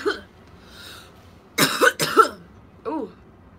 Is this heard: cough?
yes